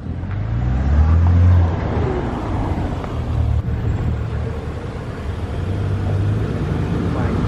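An Infiniti Q50 pulls up and parks at the roadside, its engine a steady low rumble with a brief swell near the start, with voices talking nearby.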